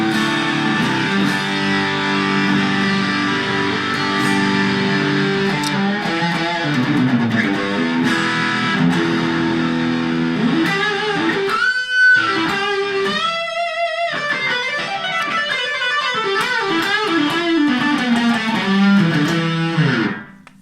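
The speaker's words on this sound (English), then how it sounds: "the distortion sound." Electric guitar played through a single distortion pedal into a small Marshall Origin 5 valve amp, sustained overdriven chords and bending notes ringing loud and close, with no talking.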